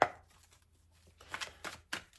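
Tarot cards being shuffled in short, soft riffling bursts, quiet and close, with gaps between each brief run and no talk.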